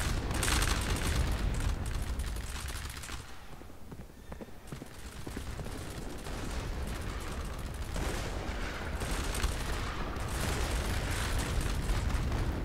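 Artillery fire in the Roblox Conquest battle game: a dense, continuous wash of distant blasts and crackling gunfire, with a brief lull near the start, steady and moderately loud.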